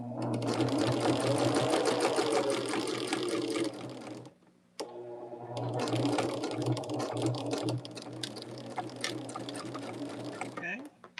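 A sewing machine stitches steadily across quilt block seams while piecing a woven star block, a loud continuous motor whir with one brief pause, mostly on its own with little talk.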